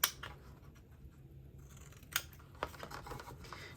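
Scissors notching paper tabs on a papercraft tea tower: a sharp snip at the start, then a couple more crisp close cuts between quiet handling noise.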